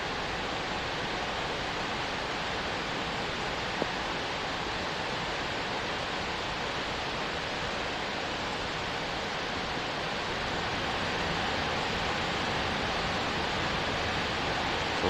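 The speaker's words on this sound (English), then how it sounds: "Probably hear the sound of the waterfalls getting louder now." Waterfalls roar from a distance along a forest hiking trail in Savage Gulf State Park, Tennessee, making a steady, even wash of noise with no break and no voices.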